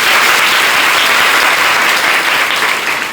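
A dense, loud burst of audience clapping at a religious gathering, a continuous roar of many hands sustained throughout and tapering slightly at the end.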